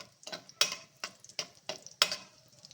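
Chopped figs for a carrot and fig payasa stir in a pan, a series of short, sharp scrapes at an even rhythm over a faint sizzle.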